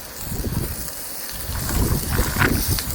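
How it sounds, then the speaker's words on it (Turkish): Wind gusts roar steadily across the microphone, a rough rumbling rush that swells and buffets throughout, with no voices. "Bu rüzgar bozdu işi."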